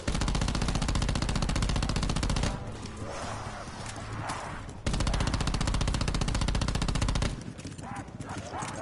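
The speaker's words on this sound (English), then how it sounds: "Look where everybody's coming from while I shoot the floor." Automatic gunfire shooting the floor in Black Ops 4 zombies comes as two loud, rapid sustained bursts, each followed by quieter game noise and a brief break.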